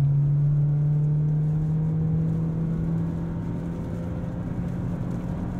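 A 2023 Toyota Corolla Cross Hybrid accelerates hard, its steady engine and motor drone rising slowly in pitch, heard from inside the cabin, loud and continuous with no voices.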